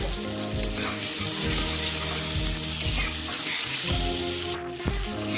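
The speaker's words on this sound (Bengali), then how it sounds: "গোবিন্দভোগ চাল দিয়ে আমার মশলা কষানো হয়ে গেছে, এবার দিয়ে দেবো আলু, ভেজে রাখা আলু" Fried potatoes are added to a pan of sizzling spiced masala cooked with Gobindobhog rice for a fish-head muri ghonto, with steady close frying hiss, stirring scrapes and occasional clatter, no voices.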